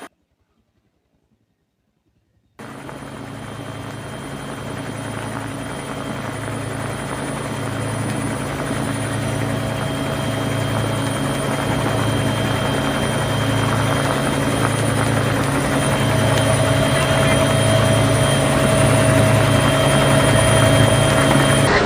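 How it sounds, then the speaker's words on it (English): A Bell 212 helicopter flies a rescue operation, its rotor thumping in a fast, steady low beat under a constant turbine whine, growing gradually louder and closer after a brief silence at the start. "The operation was carried out using a Bell 212 type helicopter belonging to the No. 7 Squadron based at Hinguragoda."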